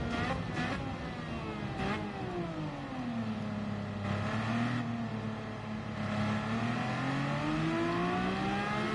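A Honda RA272 race car in a racing video game revs and accelerates in a loud, continuous engine whine whose pitch climbs and falls across several gear changes, with no talk over it.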